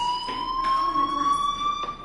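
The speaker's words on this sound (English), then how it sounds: "do you hear that fire alarm?" A school fire alarm in the video game Life is Strange sounds as a continuous loud electronic siren tone with slight pitch drift, steady for the whole stretch with no talking.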